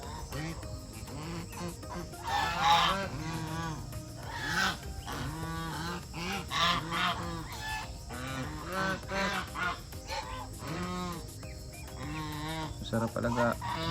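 Geese honk repeatedly in loud, overlapping bursts, close by, with scattered voices talking underneath.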